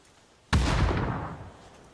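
A grenade explodes in a video game shootout, one sudden loud close blast that rumbles and slowly fades over about a second and a half, heard alone without talking.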